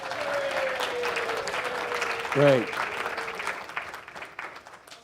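Audience applause for a speaker's wife's birthday at a motivational talk, sustained clapping from the crowd with a brief spoken word from a man partway through, tapering off toward the end.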